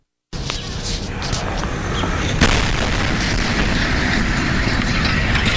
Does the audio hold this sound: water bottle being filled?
no